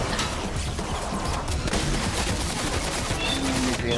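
Dense rapid gunfire in the Fortnite battle royale video game, a steady rattle of automatic shots mixed with individual cracks, loud and continuous with faint voices underneath.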